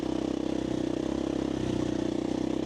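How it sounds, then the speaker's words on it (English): A 501 dirt bike engine runs steadily close by, a continuous rough idle-like drone with a fast, even firing pulse and no talk over it. "How could you want to ban dirt bikes? Listen to that pleasure."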